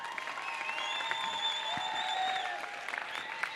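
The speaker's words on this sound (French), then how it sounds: "posez vos téléphones et applaudissez-le hyper fort" A crowd at a champions' final event applauds in steady, sustained clapping at moderate volume, with faint tonal music or whistles carrying over the top.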